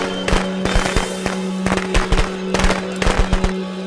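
Firecrackers crackle in rapid irregular pops in the video game Friday the 13th, loud and close, with a constant game hum underneath.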